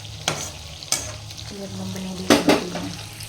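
Masala frying in a pan as it is stirred, a steady soft sizzle broken by a few sharp scrapes and clinks of the spoon against the metal.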